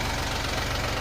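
A tractor engine runs loud and close with a steady, throbbing low-pitched chug and no pauses.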